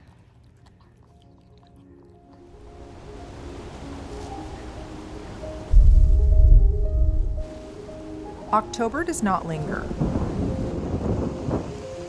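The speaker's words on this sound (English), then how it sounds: "Wind and rain tear through the garden with increasing frequency, leaving the flowers battered and bent, fading fast" A deep rumble of thunder rolls over a rain-swept garden, building gradually and then peaking in a heavy low burst, with steady rain noise as someone speaks over it.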